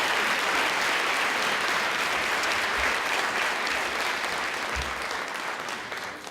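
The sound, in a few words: audience applause for graduates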